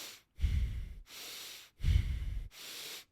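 Close, heavy breathing in a steady cycle: two deep, rough exhales alternate with softer, airy inhales, with short pauses between breaths.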